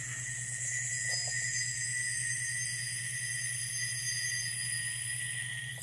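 An Epic G2 Warthog yo-yo with an A grade bearing spinning steadily, giving a constant high whirring hum with a faint low drone underneath, even in level throughout, with no voice.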